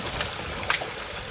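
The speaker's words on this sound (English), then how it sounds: "you can see all that water is flowing out of the tank" Water pouring out of the pipe of a Mozzie Stoppa tank as the insert is removed, a steady close splashing gush with a few brief spatters on top.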